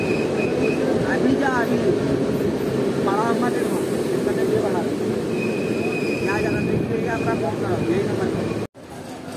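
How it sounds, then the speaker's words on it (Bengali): Kaviguru Express passenger train pulling out of Sainthia Junction, heard from on board as a loud, steady rolling rumble with faint chatter and brief squeaks, ending in a sudden dropout. "সাঁইথিয়া জংশন থেকে বেরিয়ে যাচ্ছে আমাদের ট্রেন"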